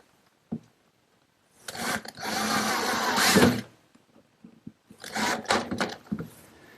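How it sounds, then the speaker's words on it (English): A screw driven into the back of a wooden hall seat with a power driver: two close whirring bursts, the first about two seconds long, the second shorter and choppier, with brief knocks and silence around them. "the first thing I want to do is put a screw right in from the back side"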